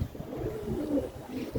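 Pigeons cooing indoors while being fed mixed grain on a rainy day, low soft burbling coos repeating in a close, continuous murmur with a faint rumble underneath.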